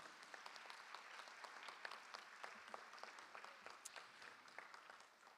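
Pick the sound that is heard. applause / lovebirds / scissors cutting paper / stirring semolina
applause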